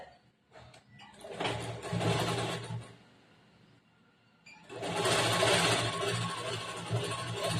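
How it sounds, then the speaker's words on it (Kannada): Sewing machine stitching tucks on a blouse: two loud bursts of rapid whirring stitching separated by a quiet pause, close and alone with no talking. "ಟಕ್ಸ್ ಹಿಡಿದು ಸ್ಟಿಚ್ ಮಾಡ್ಬಿಡ್ಬೇಕು"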